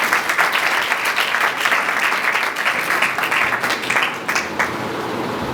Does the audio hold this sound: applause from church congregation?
yes